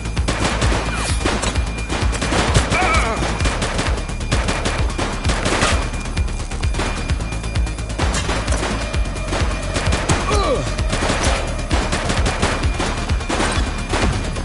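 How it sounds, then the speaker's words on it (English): Sustained, loud gunfire from a police shootout in the video game The Precinct: dense bursts of automatic weapons and rapid shots crackle continuously for the whole stretch, with occasional crashes mixed in. "Shots fired!"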